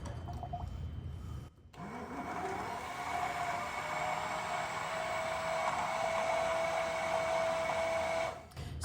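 A blender whirs steadily as it blends homemade salad dressing, a loud, even motor drone that starts after a brief pause and runs without a break for about seven seconds, then cuts off near the end.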